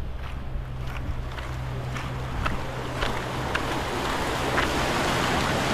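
Rough surf at a beach in Real, Quezon, a steady broad wash of waves with low wind rumble on the microphone and a few faint splashes throughout, no talking.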